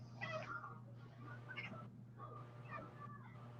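A Maine Coon cat gives a few soft, chirping meows in short bursts over a steady low hum indoors, fairly faint and close by.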